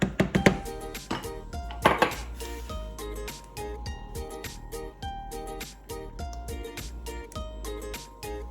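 Lentils stirred in a cooking pot with paprika and spices nearby, giving repeated clinks and scrapes of a spoon against the pot, with a few louder knocks near the start and steady lighter tapping throughout.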